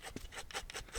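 Rapid rasping strokes of a file rounding off sharp guitar fret ends, about six quick scraping passes in a steady rhythm, close and clear.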